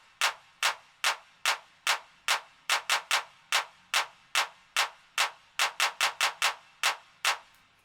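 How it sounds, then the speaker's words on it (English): Crisp electronic handclaps from a hardgroove techno track repeat alone in a steady rhythm, about twenty sharp hits with quick decays, some in quick doubled pairs. "There is one more percussive element, it's this clap that sounds like this."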